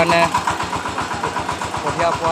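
A small remote-controlled tractor engine runs steadily near the listener, a fast even chugging pulse with a buzzy rattle, held at constant pace.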